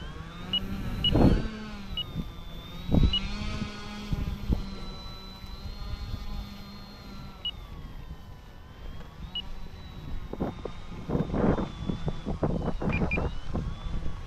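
The electric motor of a Durafly Tundra RC model plane whines steadily, its tone rising and falling as the throttle shifts, heard outdoors from fairly close alongside some handling knocks and wind bumps.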